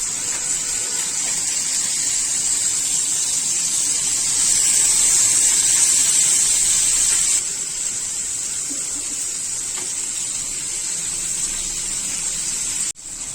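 Fish pieces fry in hot oil for a crispy Andhra-style fish fry, giving off a loud, steady hissing sizzle that swells midway and settles, ending with a brief clunk, without speech.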